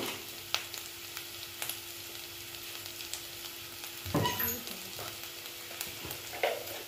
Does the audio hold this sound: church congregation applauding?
no